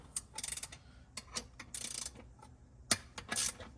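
A ratchet wrench with a 13 mm socket running out bolts on a 2026 Can-Am Defender HD11 Max Limited, rapid close clicking bursts separated by short pauses, fairly faint, no voices.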